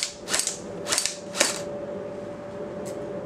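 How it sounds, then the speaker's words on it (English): An ASGI custom Silent Death AEG and a KWA MP9 airsoft gun fire at an outdoor range: three sharp, close snapping shots in quick succession, then a fainter single shot after a pause, over a steady mechanical hum. "I'll be shooting some with the Silent Death and some with the MP9"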